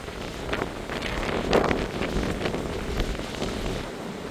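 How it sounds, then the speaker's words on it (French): Strong gusts of wind during storm Floriane buffet the microphone in continuous rough roaring waves that swell and ease, loud and close, with no voices. "La force des rafales,"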